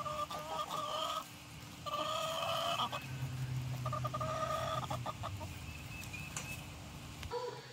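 Chickens on a small farm cluck and cackle in short repeated bursts nearby, with a soft steady background murmur underneath.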